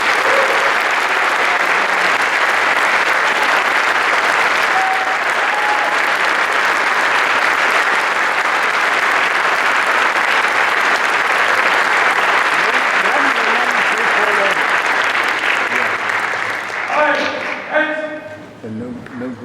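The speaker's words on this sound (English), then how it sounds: "please join me in a round of applause for our Silver Star" An audience at a Gold and Silver Star ceremony gives sustained, loud applause for nearly twenty seconds as a dense crowd roar that thins near the end, where voices start talking.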